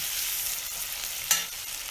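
Onions frying with salt in a pan for a village-style Assamese goat meat dish give a steady, close sizzle, with a short stirring scrape near the end.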